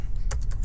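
An IP address is typed on a computer keyboard, giving a short run of four quick, crisp key taps heard close over a low background hum.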